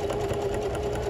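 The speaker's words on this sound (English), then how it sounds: "I'm going to stitch until I match that." Sewing machine stitching a frayed seam repair, a steady close mechanical whir with a fast, even rhythmic chatter throughout.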